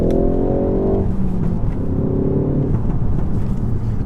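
A car accelerating up close, engine loud and steady with a rising tone that drops back as it shifts, with faint crackling pops from the exhaust under the drone.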